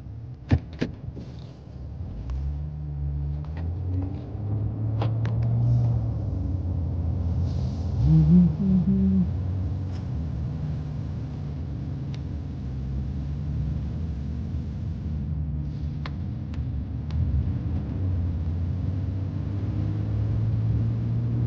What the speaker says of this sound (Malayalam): നമുക്ക് ആദ്യം ഇതൊന്ന് വണ്ടി എടുത്ത് ഒന്ന് പോവാം